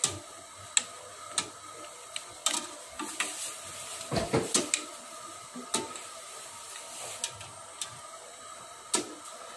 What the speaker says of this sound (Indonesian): Dan ini nasi timnya sambil diaduk-aduk.